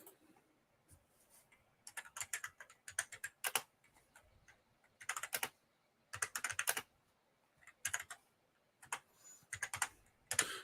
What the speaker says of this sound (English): so I'm just typing